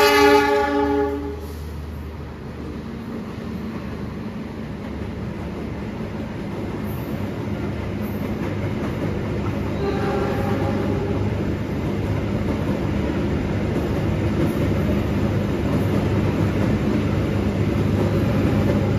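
A passenger train passing through Lempuyangan station, a long continuous rumble of wheels and cars that swells and stays loud, with a brief horn-like tone near the start.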